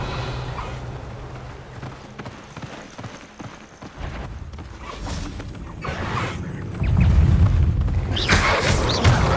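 Bombarda blast spell cast in the Hogwarts Legacy video game, a deep booming burst that swells loud near the end over a busy, rumbling game backdrop, with no voices heard.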